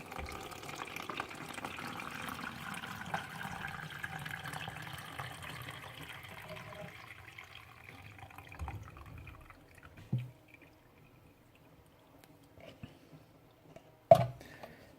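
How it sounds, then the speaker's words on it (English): Mushroom soaking liquid poured through a muslin cloth, a steady faint trickle and drip of liquid that thins out over time, ending with a few sharp knocks of a container. "I'm just going to pass the juice through the muslin cloth just to get all the nasties out"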